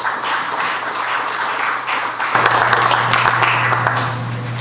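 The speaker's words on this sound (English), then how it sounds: "Give her a round of applause." An audience applauds at an evening emancipation lecture, a steady broad wash of clapping that swells louder partway through and carries on to the end, with no voices over it.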